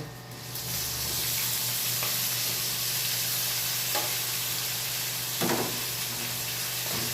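Onion frying with ginger and cumin in a pan for a kidney bean (rajma) curry: a loud, continuous hissing sizzle with a few faint taps of stirring and no talking.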